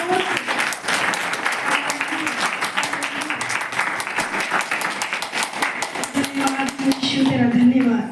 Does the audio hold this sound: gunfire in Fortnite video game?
no